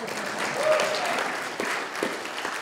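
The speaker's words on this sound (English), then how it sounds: "So gratuitous applause," Audience applause at a conference talk on computer vision with Go and OpenCV, a steady wash of clapping from a room of listeners lasting a few seconds, moderately loud and even throughout.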